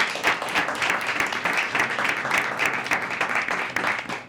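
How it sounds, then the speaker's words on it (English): Audience applauding at a Gaithersburg mayor and council meeting: steady, dense clapping from a room full of people, sustained throughout with no break. "Let's give these ladies a great round of applause."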